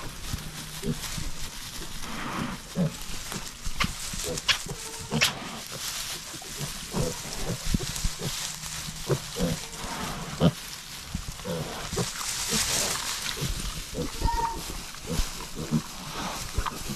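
Piglets rustling and grunting in fresh straw inside a pen, a busy stream of snorts, squeals and crackling bedding close by, with occasional faint voices.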